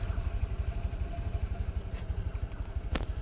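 A Honda Click version 3 scooter with its stock setup runs nearby at a low idle, a steady, rhythmic putter of engine pulses with some faint clatter, with no talking.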